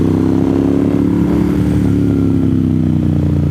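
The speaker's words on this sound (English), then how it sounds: "the woman on the motorcycle can't keep up with the trikes" A motorcycle rides along a damp road with trikes nearby, its mid-pitched engine droning steadily and loudly close by for the whole stretch, with faint clatter and no talk.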